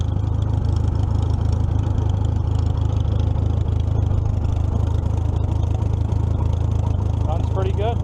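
A 1944 Minneapolis Moline ZTU tractor engine idles low and steady close by, with a continuous deep rumble that holds constant throughout, plus faint clatter.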